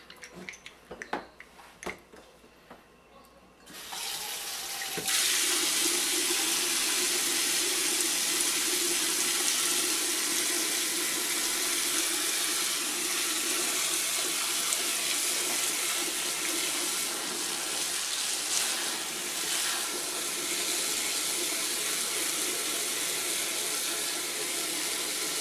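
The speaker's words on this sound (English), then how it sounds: "I'm going to add cold water." Cold tap water pours steadily and loudly into a fermentation bin during home beer brewing from an extract kit, a continuous rushing gush that starts after a few seconds of quieter handling noises, with no voices.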